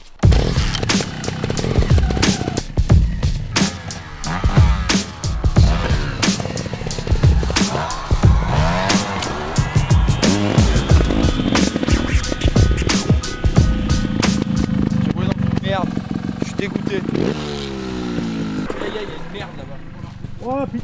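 An 84-year-old grandfather rides a trial motorcycle, its engine revving in sharp bursts and blips with rising and falling pitch, close and loud, over rough terrain, with people talking intermittently around it.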